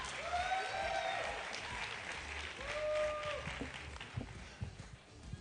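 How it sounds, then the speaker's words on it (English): Audience applause at the Mister South Africa 2024 grand final pageant: sustained, fairly distant clapping across a large venue, with rising whoops and whistles from the crowd heard over it. "Please give them a very big round of applause."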